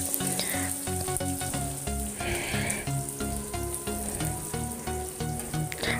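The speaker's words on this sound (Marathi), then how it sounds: "लगेचच त्यामध्ये जो कांदा आहे तो सुद्धा घालून घ्यायचा आहे" Chopped onion sizzles and crackles steadily in hot oil with cumin, mustard seeds and curry leaves, the frying loud and continuous with occasional stirring clatter.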